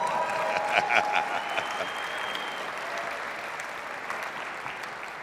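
Sustained audience applause at a Deion Sanders business talk, a broad wash of many hands clapping with a few cheers and whistles early, fading slightly while staying steady.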